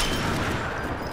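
A gunshot blast in the shooter game Sniper Elite 4, one dense booming report filling the whole short moment, loud and close with a rumbling low end.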